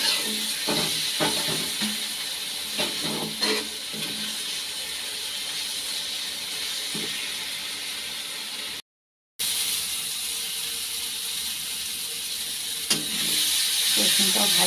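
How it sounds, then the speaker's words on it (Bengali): Garlic frying in a pan, a continuous hissing sizzle that is loud and close, broken by a brief cut of silence partway through, with occasional soft clinks and stirring noises. "রসুনটা দিয়ে একটু ভাজা করব"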